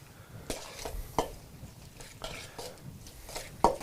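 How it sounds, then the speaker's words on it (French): Pico de gallo is mixed with lemon juice, salt and pepper in a bowl, giving close, wet stirring sounds with a few sharp utensil clicks against the bowl at irregular moments. "On mélange le tout."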